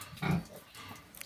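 Pigs on a rural farm give a short, low grunt followed by softer snuffling grunts, close by and brief.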